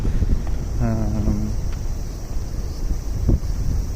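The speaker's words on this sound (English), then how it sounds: "It's also a bit windy here." Steady low rumbling wind buffeting the microphone outdoors along the Sen River in Sengawa, Tokyo, in the evening, with a brief tonal sound and scattered faint noises underneath.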